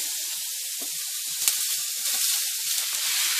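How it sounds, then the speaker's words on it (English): Onion and diced meat for a low-carb crockpot chili sizzle in a hot pan with a steady, bright hiss, broken by a few soft knocks and scrapes. "So the pan's good and hot now. I'm going to add the onion and the diced meat."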